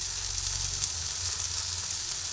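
Shrimp sizzle steadily as they fry with taro leaves in a pan, a dense hissing crackle that carries on throughout with a few soft stirring thumps and no talk.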